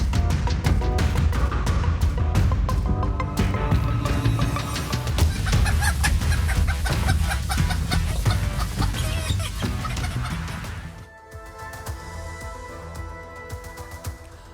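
Chickens cluck and squawk in a busy Delhi poultry market, a dense, loud, continuous din of many birds that thins out and drops quieter toward the end.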